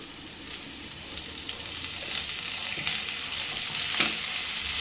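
Curry ingredients fry in hot oil with a steady, bright sizzle that builds slightly, punctuated by a few brief stirring scrapes, close and loud with no talking.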